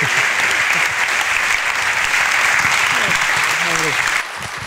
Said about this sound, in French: Merci d'applaudir très fort Luc.